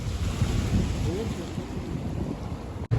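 Steady roar of wind buffeting the microphone and rushing sea water from the deck of a ferry crossing near Lisbon, Portugal, loud and continuous with a brief dropout near the end.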